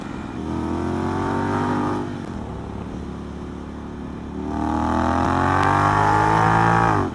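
A 2019 Honda X-ADV 750 motorcycle with an R9 exhaust rides along, its engine rising in pitch as it accelerates, easing off, then revving up again, loud and close.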